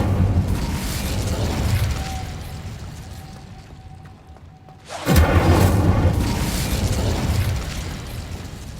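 Incendio fire spell cast in the Hogwarts Legacy video game, a loud fiery whoosh that dies down into a brief lull, then bursts into a sudden roaring blast that keeps raging.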